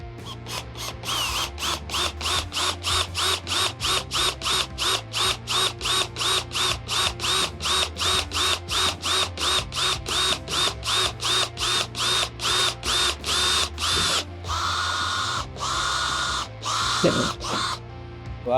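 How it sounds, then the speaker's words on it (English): A drill fitted with a 1/8 inch stainless steel bit bores into stainless steel while mounting a kitchen touchscreen kit, working in rapid repeated pulses with a steady high whine and grinding tone, loud and close, trailing off into a brief rougher burst. "We're going to take our bit that I mentioned, a 1/8 inch stainless steel drill bit."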